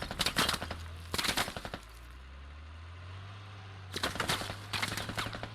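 Bursts of automatic gunfire from an LAV armored vehicle in the military shooter game Squad, two rapid rattling volleys, a lull with a low engine drone, then another close, loud burst.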